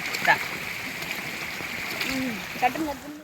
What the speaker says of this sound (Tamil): பார்த்தீங்கன்னா போகிற வழியிலே தண்ணி எவ்வளோ வேணும் ஓடிக்கிட்டு இருக்குன்றதா